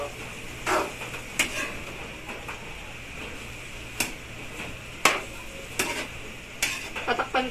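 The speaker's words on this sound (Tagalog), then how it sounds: "Tapos po yung haluin po natin." Higado, a Filipino pork liver stew, stirred in a pan: a soft simmering sizzle broken by several sharp clinks and scrapes of a spoon against the pan, close by.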